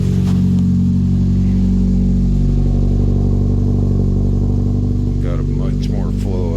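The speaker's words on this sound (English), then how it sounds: "It runs really good, really solid. Exhaust sounds way better." A car with 257,000 miles runs steadily after an exhaust flex pipe repair, its deep, even engine drone close and loud throughout, with a brief voice near the end.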